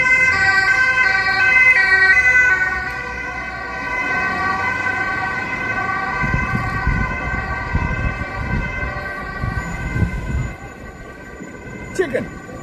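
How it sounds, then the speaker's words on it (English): A loud wailing siren sweeps past on an Amsterdam street, strong at first and then fading, with road traffic rumbling underneath. "There's a loud siren coming by."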